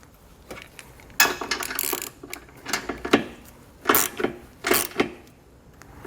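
A ratchet with a 19mm socket snugs down bolts on a Roadmaster crossbar-style base plate kit, giving several bursts of rapid clicking close by with short pauses between them.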